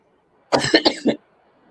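A short fit of about four close, harsh coughs in quick succession, then quiet.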